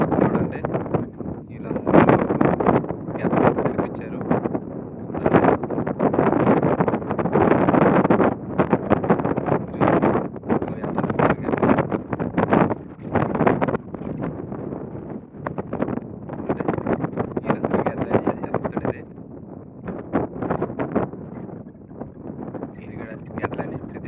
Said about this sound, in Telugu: ఆ గాలి శబ్దం ఎక్కువగా ఉంది